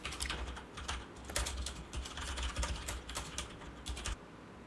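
Someone types on a computer keyboard in quick, uneven bursts of soft, close clicks and taps, fairly quiet, with no one speaking.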